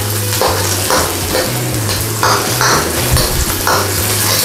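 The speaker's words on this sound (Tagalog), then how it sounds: "Simmer lang po natin siya ng mga 1 to 3 minutes." Thai-style sweet and sour sauce for fish simmers and sizzles in a pan, a loud, steady, close bubbling hiss with faint stirring scrapes throughout, with no voice over it.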